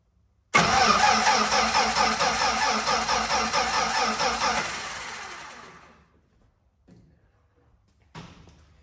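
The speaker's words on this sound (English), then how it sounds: "So this will be the first time it's cranked over in about 5 years." Dodge D5N truck with a 245 Hemi engine cranking over for the first time in years, a loud rhythmic starter churn for about four seconds that fades out, then a brief clunk.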